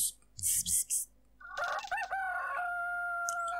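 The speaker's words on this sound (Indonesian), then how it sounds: "Bunyi ayam berkokok" A rooster crows once in the video game Otaku's Adventure, a loud, drawn-out cock-a-doodle-doo that rises, then holds a long steady tone to the end. It follows a few short bursts of noise.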